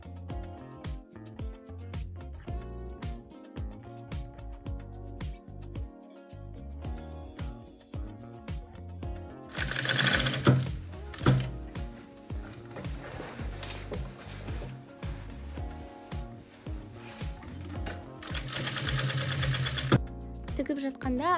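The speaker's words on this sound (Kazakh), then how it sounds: "етекке дейін тігіп шығасыздар." A sewing machine sews down toward the hem of a denim skirt made from old jeans, with bursts of fast, loud stitching between quieter stretches, and someone speaks over much of it.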